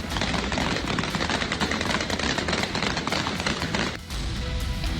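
Dense, rapid bursts of gunfire from Taliban fighters in Afghanistan, fired in broad daylight, crackle continuously, loud and close, with a brief dip near the end before the shooting resumes.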